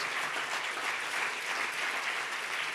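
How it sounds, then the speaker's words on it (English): An audience at the Berlinale independent juries award ceremony in Berlin applauds the jury members with steady, dense clapping that fills the hall evenly for a few seconds, with no voices over it. "A warm applause to Claudia Kimlingen, Andreas Müller, Clara Milou-Scheder, Gabriele Schipper, Sebastian Schmeling, Sonja Thur, and Rafaela Wahl-Herrera."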